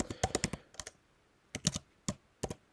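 Computer keyboard typing close by: quick bursts of crisp key clicks with short pauses between groups, alone without talk.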